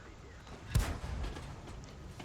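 In a tank video game, the SU-76M's gun fires a single sharp booming shot that rolls off into a low rumble over a quiet engine drone.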